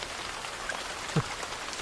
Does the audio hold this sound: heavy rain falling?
yes